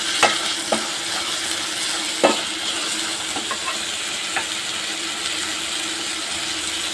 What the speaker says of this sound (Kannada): ಇವಾಗ ಸ್ವಲ್ಪ ಟೊಮಾಟೊ ಹಾಕಿ ಫ್ರೈ ಮಾಡ್ಕೋಬೇಕು